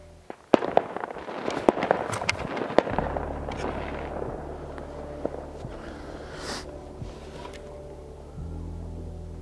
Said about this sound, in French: on entend des pétards un petit peu partout